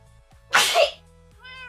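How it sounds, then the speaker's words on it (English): A single sharp, breathy sneeze bursts out close by, with faint tonal sounds in the background. "I have to sneeze."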